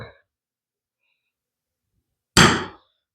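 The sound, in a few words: center punch struck to mark a hole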